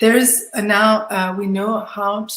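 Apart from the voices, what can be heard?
None of the usual background noises is heard.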